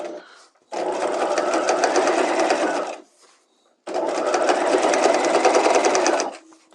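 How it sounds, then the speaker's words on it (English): A sewing machine runs in two steady bursts of about two seconds each while understitching a bias facing filled with horsehair braid for a hem. It is close and loud, with a short pause between the runs. "All right, so let's go ahead and understitch this."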